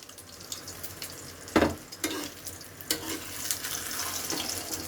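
Eggs frying in a pan at night, a continuous crackling sizzle with a few sharper pops and scraping clatters of a utensil against the pan, close by and fairly quiet.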